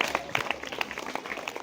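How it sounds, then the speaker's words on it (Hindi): Audience applause from a seated group at a talk, a scattered burst of hand claps that is fairly faint and brief, with a little voice mixed in. "जोरदार ताली बजाइए इनके लिए"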